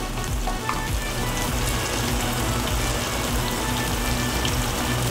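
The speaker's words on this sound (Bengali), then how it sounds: "এখানে টমেটো পেঁয়াজ একটু নরম হয়ে গেছে, এখন এই পর্যায়ে আমি দিয়ে দিব এক চামচ হলুদের গুঁড়া" Onion, tomato and turmeric fry in a pan for an okra and potato curry, sizzling steadily and loudly throughout with a dense, even crackle and no talking.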